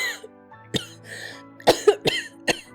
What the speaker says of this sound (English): The others watched her coughing fit.